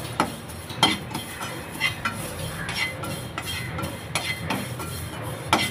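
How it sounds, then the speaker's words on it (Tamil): Drumstick leaves are dry-roasted and stirred in a pan, a ladle scraping and knocking against the metal in a regular rhythm of sharp clinks and rustling strokes at close range. "இப்படி கைவிடாமல் வறுத்துட்டே வாங்க."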